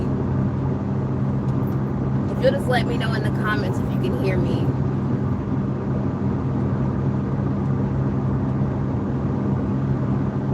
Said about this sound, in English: I know I'm driving in my tin can of a car